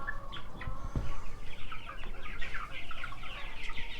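Egg-laying hens cluck in a larger farm pen on a fall day, a busy overlapping chorus of clucks and chatter that carries on throughout, fairly close and without talk.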